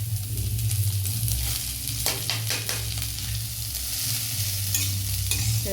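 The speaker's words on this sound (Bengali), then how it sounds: "বাঁধাকপিটা দিয়ে আমি বেশ কিছুক্ষণ নাড়াচাড়া করে নেব" Shredded cabbage stir-fried in a pan with ginger, green chili and five-spice, sizzling steadily with scraping and stirring throughout and no voices.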